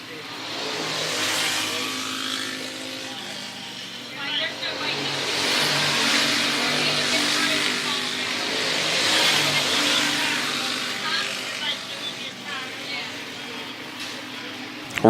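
Race cars circle an oval track during a New Year's race, a continuous engine drone that swells and fades as cars pass, beneath steady announcer commentary.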